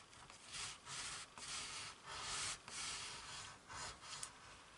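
Card paper being scored on a scoreboard, a series of faint, close scraping rubs in short repeated strokes, with no voices.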